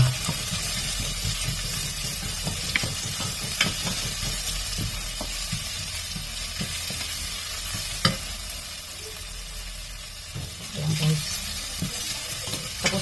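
Chopped ginger sautéing in a hot pan for an Ilocano sinanglaw dish, a continuous close sizzle with repeated stirring scrapes and taps of the spatula.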